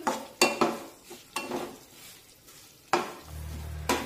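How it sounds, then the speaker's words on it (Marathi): Banana pieces being fried and stirred into roasting semolina for sheera, with several sharp scraping stirs of a spoon against the pan over a soft, steady sizzle, close by. "आता हे केळ रव्यामध्ये छानपैकी परतून घेऊ"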